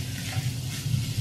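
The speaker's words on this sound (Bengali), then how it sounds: "এখন এটাকে একেবারে ঝরঝরে আর ভাজা ভাজা করে নিতে হবে" Chicken filling for buns, seasoned with white pepper, sizzles steadily in a hot pan while being stir-fried, a close, continuous frying hiss over a low rumble, with no talking.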